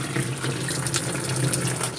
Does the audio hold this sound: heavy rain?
no